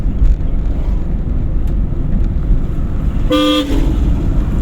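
A single short car horn honk sounds clearly over steady road and engine noise during a driving lesson.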